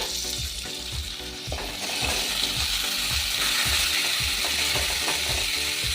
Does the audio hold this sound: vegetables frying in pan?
yes